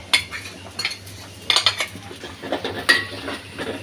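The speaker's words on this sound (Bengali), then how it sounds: "একটু তেলের মধ্যে হালকা নেড়ে চেড়ে নিয়ে" A metal spoon scrapes and clinks against a cooking pan while spices are stirred lightly in oil for a fish and vegetable dish, a few sharp irregular clatters close by over a low background hum.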